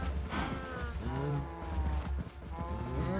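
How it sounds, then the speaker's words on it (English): Minecraft cows in a pen in GT New Horizons, giving several drawn-out moos in quick succession over a low constant hum, with no talking. "Looks like there's some adult cows in here, which is good."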